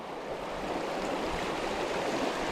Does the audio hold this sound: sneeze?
no